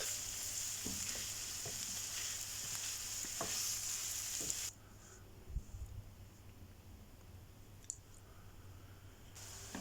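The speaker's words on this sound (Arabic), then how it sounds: "بعد ما دبل البصل واخد لون رح نزل اللحمة، وبحركهم كتير مع بعض حتى تستوي اللحمة نص استواء" Minced meat frying with softened onions in a pan, a soft sizzle under scattered spoon clicks and scrapes from stirring, the hiss dropping noticeably about halfway through and leaving quieter taps.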